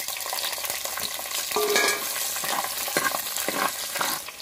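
Garlic and shallots sizzle in hot oil with fennel seeds and curry leaves for a dried fish kuzhambu, a close, continuous frying hiss broken by scraping stirs and small spatters.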